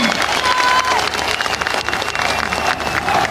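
Crowd applause at a political rally for Burcu Köksal, CHP mayor of Afyonkarahisar, a dense, loud, continuous clapping with some cheering that fills the whole stretch, with a faint voice and a brief tone above it.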